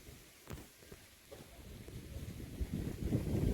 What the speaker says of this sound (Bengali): রান্নাঘরে বসা যাচ্ছে না ঝোড়ো হাওয়া বাইরে